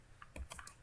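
Brief run of a few keyboard keystrokes as a command is typed on a computer, irregular clicks close and fairly quiet, with no talking.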